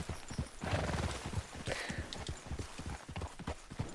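Horse hooves in the video game Red Dead Redemption clip-clop in a brisk steady rhythm at close range, with a faint whinny mixed in, moderately quiet.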